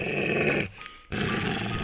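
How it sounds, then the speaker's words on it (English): An enormous black dog growls in a low, rumbling, sustained snarl, heard close and loud with a brief dip in the middle, without any talking. "an enormous black dog ran out of the fog and blocked Matt's way."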